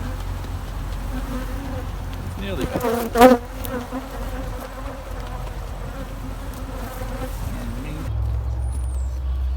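A dense, steady buzz of many honeybees close by as a queen-rearing cell builder hive is filled with bees, with a brief voice partway through and a louder bump near the middle.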